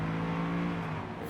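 Engine of a race car in Forza Horizon 5 holding a steady high drone at a constant note, then shifting and easing off near the end, loud and close with no talk.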